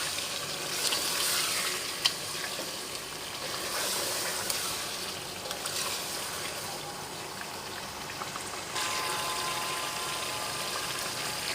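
Tomatoes fry in a pan for chicken biryani, giving a steady, close hiss and crackle with occasional small pops and stirring scrapes, constant in level throughout.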